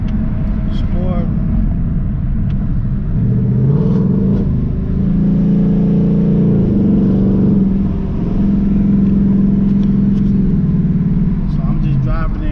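A 2019 Mustang GT running E-85 on a flex tune, in sport mode, hums and rises in pitch as the engine revs while driving, with a steady cabin rumble beneath a voice talking throughout.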